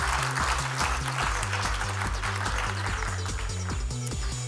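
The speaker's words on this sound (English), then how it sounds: "Round of applause." Applause from an audience at an awards ceremony, a steady wash of many hands clapping continuously with rhythmic low thumps underneath, filling the whole stretch without speech.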